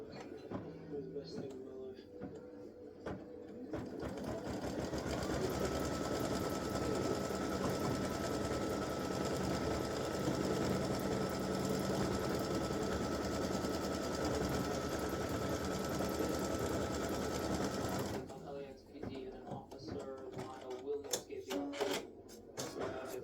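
An embroidery machine stitches an appliqué tack-down on a Christmas gnome design, running as a loud, steady rapid whir for about fourteen seconds, with a person talking just before and after.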